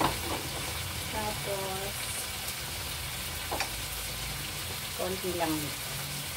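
Garlic fries in a hot pan with a constant, close hiss and crackle that runs under a person speaking briefly.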